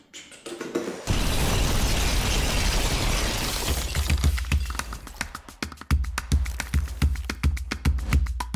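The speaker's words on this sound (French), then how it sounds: "Et là, tu nous fais une petite explosion" Sudden loud explosion sound effect bursting in after a quiet second, a long rumbling blast that fades into a scatter of crackling, rattling debris taps.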